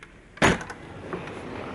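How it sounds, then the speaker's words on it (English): A small closet door in a Paris hotel room swings open with one sudden, close knock and rattle, then fades into quiet room tone. "Didn't realize this was a little door."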